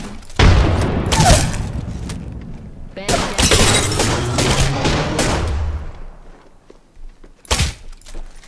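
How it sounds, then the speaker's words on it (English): Grenade blast and gunfire in an Apex Legends match: loud bursts of explosive impact and shattering debris come in clusters, with a final sharp bang near the end over a game voice. "Look out, grenade!"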